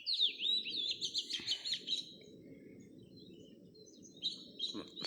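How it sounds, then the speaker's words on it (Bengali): Birds calling at dawn in misty hills, with bright chirping phrases at the start and end over a low steady background rumble. "পাখির ডাকে মুগ্ধ হয়ে যায়।"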